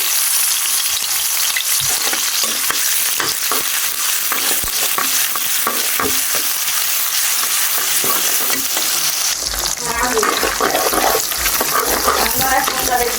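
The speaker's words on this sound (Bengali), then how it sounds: "ডিম দিয়ে দিচ্ছি ডিমটা ভালো করে ভেজে নেব" An egg hits hot soybean oil with chopped onion and green chili and sizzles loudly and constantly, a spatula scraping and tapping the pan in quick strokes, with a voice talking over the frying.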